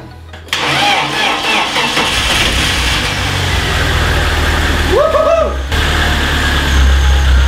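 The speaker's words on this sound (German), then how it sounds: "Der Motor läuft." A car engine cranks and catches, then settles into a steady, close idle with a brief rev in the middle, the loud running hum continuing to the end.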